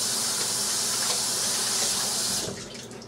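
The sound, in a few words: washing hands under running tap water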